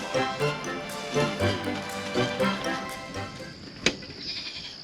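A big goat bleats in a few short, close calls mixed with other voices outdoors near a fall garden, followed by a brief sharp knock and quieter background.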